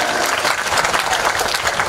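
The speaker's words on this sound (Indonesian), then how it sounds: "tepuk tangan kita semuanya" Dense, loud applause from a crowd of young people at a language and literacy camp in Bangka, a continuous roar of many hands clapping at once.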